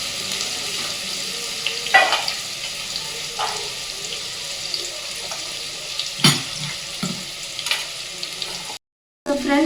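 Onions fry in oil for mutton biryani, a continuous soft sizzle and crackle close by, broken by a few louder clattering stirs and splashes before a brief silent gap.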